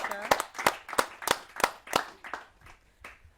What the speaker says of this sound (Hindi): जोरदार तालियों से मैं आमंत्रित करता हूं गाजियाबाद से पधारी हुई बहुत ही वरिष्ठ कवयित्री जिनका नाम होता है अंजू जैन।